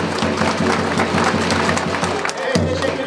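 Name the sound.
applause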